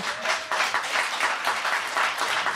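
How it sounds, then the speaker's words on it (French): Studio audience at a television talk show breaking into brief, lively applause, rhythmic bursts of many hands clapping close together throughout the short moment. "Applaudissez"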